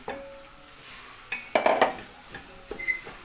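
Mushrooms sautéed in a pan for a carrot and mushroom soup, with scattered metallic scrapes and clinks of a utensil stirring, one louder sizzling scrape burst in the middle and quieter taps after, no voices.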